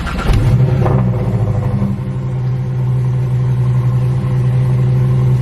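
A BMW car engine cold-starts with a quick crank and a surge of revs, then drops to a loud, steady high idle with a continuous low hum; no talking.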